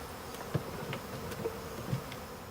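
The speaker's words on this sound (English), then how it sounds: "put the hive cover on and let these bees migrate over to their new home" Honey bees from a freshly caught swarm buzz faintly around their hive after the cover is put on. A soft, steady hum runs with occasional closer passes by single bees, and no one speaks.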